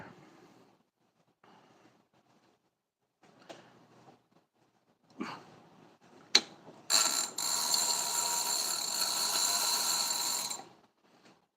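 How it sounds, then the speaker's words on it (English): Fishing line being spooled onto a reel, a few scattered ratcheting clicks and handling noises, then a steady, loud whirring mechanical crank for several seconds before it stops. "Time to spool it up."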